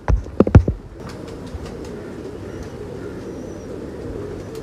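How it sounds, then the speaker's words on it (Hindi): A pet pigeon at a home loft gives a few soft low coos near the start, then quiet ambient noise with faint distant chirps follows. "ये उनके घर का कबूतर है"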